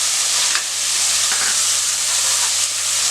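Tomatoes and onions sauté in a pan for a vegetable kootu kuzhambu, giving a steady, close sizzle and hiss with a few soft stirring clicks throughout.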